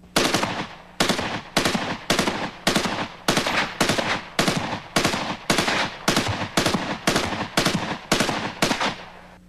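Sustained automatic fire from a rifle chambered for 7.62x39mm Comblock cartridges, about 660 rounds per minute, fed from 30- or 40-round magazines or a 75-round drum. Loud, regular bursts repeat steadily with short gaps between them, and no voices are heard.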